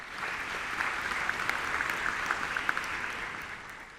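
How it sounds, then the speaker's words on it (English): Audience at the PSL 10-year celebration evening applauding, a steady, moderately distant round of clapping with a few sharper individual claps standing out, fading slightly at the end. "that really deserves an applause to the leadership of the PSL"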